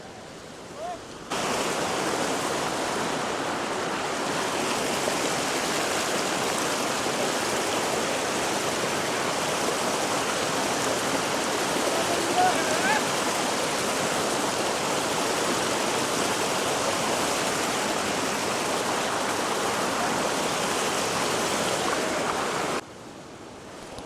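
A mountain stream and waterfall in Ladakh rush without pause, a loud, close, even wash of flowing water that holds steady for over twenty seconds with no talk.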